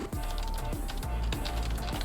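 Rapid typing on a computer keyboard, a dense run of quick clicking keystrokes over a steady low hum, close and continuous with no voices.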